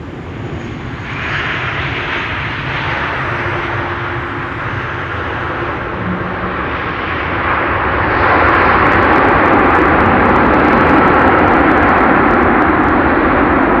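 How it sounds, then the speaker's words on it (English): A KLM Boeing 787-9 Dreamliner landing at Amsterdam Schiphol roars close and loud, its engine noise swelling sharply partway through and holding strong to the end. "Pretty soon landing here will be KLM flight 696 arriving from Toronto."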